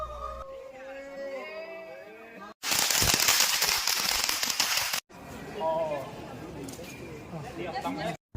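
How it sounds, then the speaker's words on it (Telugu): Firecrackers go off at an outdoor Diwali celebration in Taiwan: a loud, dense burst of crackling and popping that lasts a couple of seconds, then a rougher stretch of crackle, with voices chattering before and between. "సో అందరూ వచ్చి క్రాకర్స్తో ఎంజాయ్ చేశారు."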